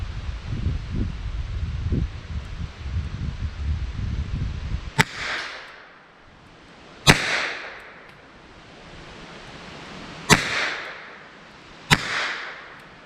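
Four sharp gunshots from a .327/.32 H&R Magnum revolver firing .32 ACP rounds outdoors, spaced irregularly a couple of seconds apart, each loud crack trailing a brief echo, after a stretch of wind rumble, with no talk.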